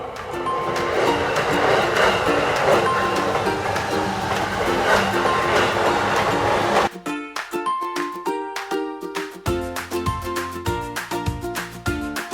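A tram at a tram station in Sheffield, UK. A loud, steady rumble gives way to rhythmic metallic clacking and tonal rail squeals as the tram moves close by, with no voices.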